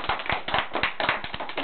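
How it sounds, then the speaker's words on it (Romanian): Small group claps in quick, steady rhythm, about a dozen sharp close-up hand claps in under two seconds, with no voices. "Vă rog, aplaudați după fiecare."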